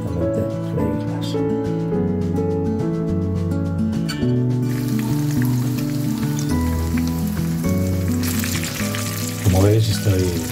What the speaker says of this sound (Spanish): Como veis, estoy friendo las albóndigas